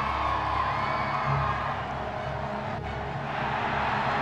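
A game crowd cheers in Harry Potter and the Philosopher's Stone after a Quidditch win, a steady distant roar of whoops and shouts under music-like tones, sustained throughout at moderate level.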